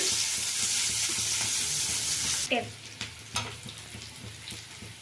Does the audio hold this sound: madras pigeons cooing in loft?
no